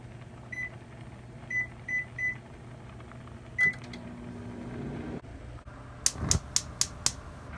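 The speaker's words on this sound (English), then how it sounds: "I'm going to put it in the microwave" A microwave oven heating a covered dish of food: a few short beeps as it is set, a low steady hum of it running, then a burst of loud rapid beeps near the end.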